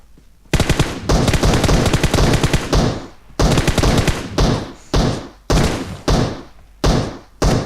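Bursts of automatic gunfire from a video game, loud and close, in repeated rapid strings with short pauses between them toward the end.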